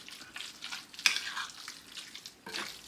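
A spoon stirs a soft two-salmon rillette mixture, making quiet, wet scraping and squishing sounds in short strokes with one sharper clink of utensil against the bowl, close and faint.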